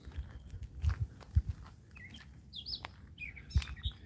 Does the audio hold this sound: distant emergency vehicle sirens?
no